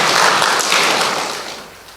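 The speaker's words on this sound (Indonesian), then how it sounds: "Berikan tepukan untuk diri kamu lah." A church congregation applauds during a Malay-language worship service, a dense burst of many hands clapping that fades out over about two seconds.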